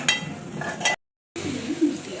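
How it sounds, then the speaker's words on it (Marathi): Homemade cow ghee simmers in a pan with a soft continuous crackle and hiss, cut by a short stretch of total silence before the bubbling resumes. "आता ह्या तुपाला 20 मिनिटं आपण छान उकळी घेतलेली आहे"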